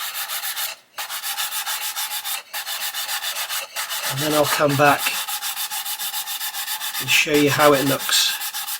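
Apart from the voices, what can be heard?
sanding model car bodywork, Italeri Lancia Stratos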